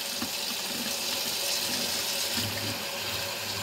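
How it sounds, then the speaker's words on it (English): Tap water runs steadily into a sink as hands are washed, a continuous close rush of water with no talking. "Always wash your hands."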